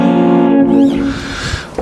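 A beginner's poorly fretted barre chord on guitar rings briefly, then its strings fade and buzz out, giving a muted, uneven decay.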